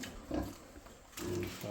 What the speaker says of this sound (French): Vous avez les porcs qui sont ici.